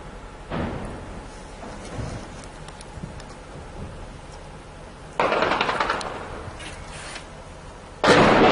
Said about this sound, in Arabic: قصف مدفعي عنيف على مدينة نوى.